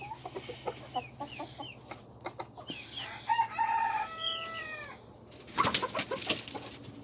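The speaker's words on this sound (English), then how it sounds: "My crazy rooster." Rocky the rooster clucks in short bursts, then lets out a long crow, moderately close, with other hens clucking around him in a farmyard.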